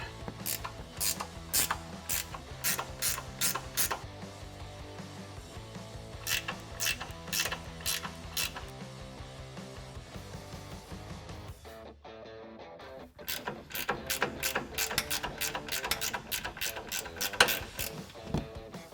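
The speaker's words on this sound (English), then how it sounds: "I've got a ratcheting wrench here to make life a little easier" Ratcheting wrench loosening 15mm strut nuts on a 2006-2018 Ram truck, a rapid run of sharp clicking bursts, pausing briefly, then resuming louder, close up with no talking.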